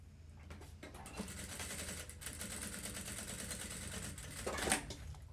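Sewing machine running continuously while stitching the ends of a thermal lunch bag together, a steady close mechanical whir with rapid needle rattle throughout, rising briefly near the end.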